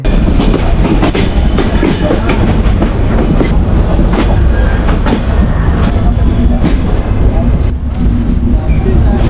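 From on board, the Banalata Express passenger train runs between Dhaka and Rajshahi with a loud, continuous rumble and rhythmic clickety-clack of wheels on the rails. Faint voices murmur underneath.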